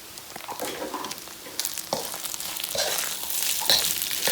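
Seasoned St. Louis-style rice is stirred and tossed in a hot pan, giving a steady sizzle with scattered scraping clicks of the utensil, close and fairly loud, with no talking.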